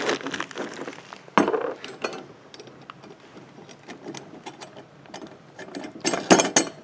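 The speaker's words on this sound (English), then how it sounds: "Tighten the nuts." Nuts tightened with a ratchet on the mounting clips of an 80cm satellite dish, steady close clicking and metallic clinks of the tool and hardware, getting busier and louder toward the end.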